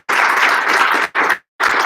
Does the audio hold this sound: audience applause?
yes